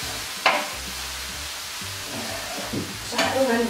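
Chicken pieces stir-fry in hot oil in a pan for Chinese-style noodles, giving a steady sizzle with a few scraping clatters of the utensil against the pan.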